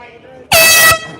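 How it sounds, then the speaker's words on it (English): An air horn blasts once in a loud, sustained burst of about half a second at a New Jersey campaign event, rising abruptly over faint background voices and cutting off sharply. "Just grab the air horn there."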